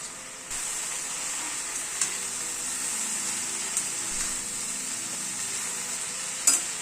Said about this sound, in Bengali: সবজিটাকে আরেকটু কষিয়ে নেব।